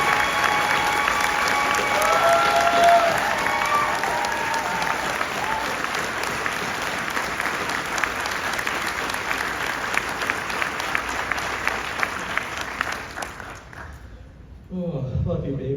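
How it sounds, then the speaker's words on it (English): A room full of people at a farewell speech gives a sustained round of applause, loud and steady before fading out near the end, with a voice speaking briefly afterward. "I hope everyone in the room can give her a round of applause"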